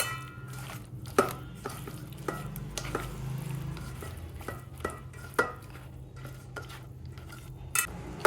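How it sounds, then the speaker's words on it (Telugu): Murrel fish pieces being hand-mixed with ginger garlic paste in a dish, irregular close clinks and scrapes of utensil on metal with soft wet handling between them. "ఇప్పుడు ఈ చేప ముక్కలలో ఇలా అల్లం వెల్లుల్లి పేస్ట్ వేసేసుకొని చక్కగా ముక్కలు పట్టేటట్టుగా ఇట్లా కలుపుకొని"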